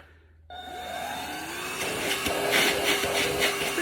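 A Holife cordless handheld cyclonic vacuum switches on abruptly and runs with a steady, whining motor hum and airflow rush, close and fairly loud, the pitch settling as it keeps running.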